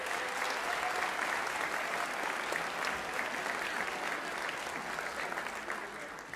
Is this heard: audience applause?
yes